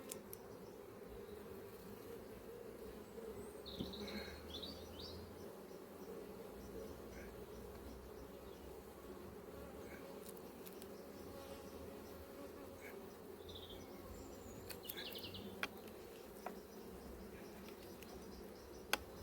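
Honey bees hum around an apiary hive in a dense, continuous buzz that stays steady and fairly faint. Occasional individual bees pass closer, with light ticks and rustles from the hive work, and no one talks.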